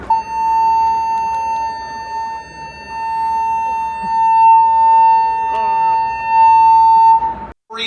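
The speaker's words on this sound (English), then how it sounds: "they do a loud siren, don't they? A loud, the sound, the safety alarm is quite loud" A cruise ship's safety alarm during an emergency drill aboard the Disney Fantasy blares loudly and continuously for several seconds, a piercing siren-like drone with brief faint voices and noise beneath it.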